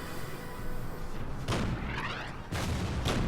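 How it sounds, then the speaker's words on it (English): Artillery opens fire in the wartime strategy game Order of Battle, two broad booming blasts about a second apart over a steady rumbling background, with no talk. "Artillery in the south opens fire"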